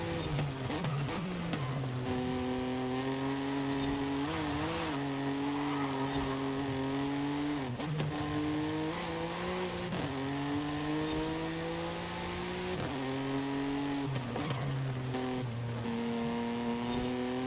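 A car in the Forza Horizon 5 video game laps a replica of the Nordschleife track, its engine droning and revving steadily, pitch climbing through each gear and dropping at the shifts, with faint brief tire noise.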